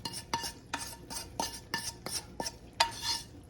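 Fried garlic is stirred into an onion mixture in a pan, making about eight evenly spaced scraping, clinking strokes of a utensil. The frying beneath is quiet and no one speaks.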